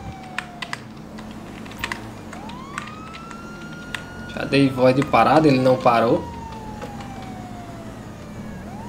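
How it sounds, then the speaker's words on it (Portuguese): A police car siren in the video game GTA V wails in faint sweeping rises and falls behind clattering computer keyboard typing, with someone speaking briefly midway. "A gente já ligou aqui a sirene"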